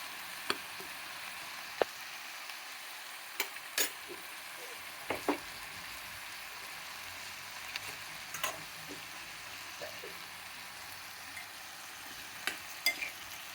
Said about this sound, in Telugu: ఆకుకూర అంతా బాగా అలిగిపోయింది అనమాట, వేగింది.